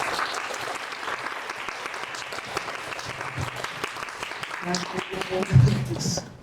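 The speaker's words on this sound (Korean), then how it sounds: "큰 박수와 함께 명사님을 맞이해주세요" An audience at a youth lecture event welcomes a TV producer to the stage with loud, sustained applause. Full-room clapping holds steady, with a brief louder burst and some vocal noise near the end.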